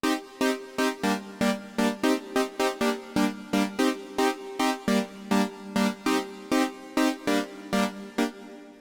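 A KORG minilogue xd synthesizer in polyphonic mode with a slightly opened filter steps through a chord sequence, bright plucked chords repeating in a steady, evenly spaced pulse, clear and alone.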